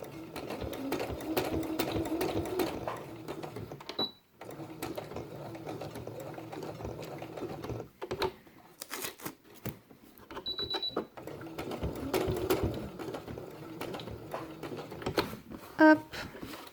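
A sewing machine stitches a felt squirrel tail for a quiet book page, running in rapid close bursts separated by short pauses, with a small click near the end.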